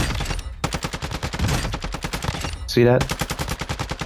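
Hard-hitting assault rifle fire in Call of Duty MWII DMZ, loud rapid bursts of shots rattling close and continuously, with a short pause and a brief high whine near the end, a voice speaking briefly over it.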